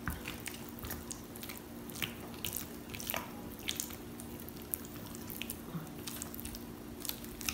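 A chilled cream filling for a Belgian cream dessert with peach is stirred by hand, giving soft, wet squishing and faint dripping sounds over a steady low hum, close and quiet, with no talking.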